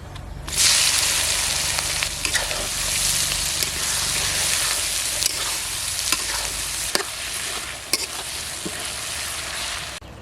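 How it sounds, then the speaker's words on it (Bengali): Chopped onions hit hot oil with whole spices (dried chili, cloves, cumin, cardamom, cinnamon) for a village-style mutton curry, bursting into a loud, steady sizzle with occasional scraping stirs and no talking. "এখন আমি দিয়ে দেবো কেটে রাখা পেঁয়াজ।"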